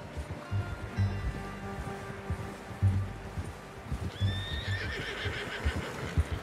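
In Red Dead Redemption 2, a horse's hooves thud in a steady clip-clop rhythm, then a clear whinny rises partway through, close and moderately loud over quiet outdoor ambience.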